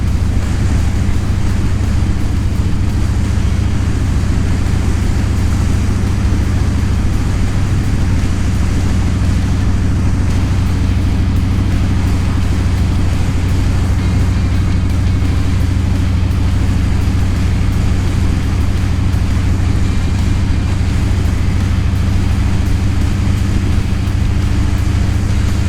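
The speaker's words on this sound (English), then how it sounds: "Yeah, there's definitely some wind going on." Heavy wind rushes and buffets against the microphone during a ride on a Harley-Davidson Street Bob near Port Stanley, Ontario, a loud, constant roar with a low engine rumble underneath and no pauses.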